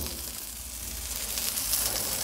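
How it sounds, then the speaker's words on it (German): Burger patties sizzle on a grill, a steady crackling hiss that grows slightly louder and brighter toward the end, heard alone without talk. "Hier hört ihr es schon brutzeln."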